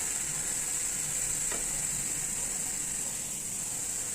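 Vegetables for a poriyal stir-fry sizzle steadily in a hot pan over a low flame, a constant close crackling hiss with no talking.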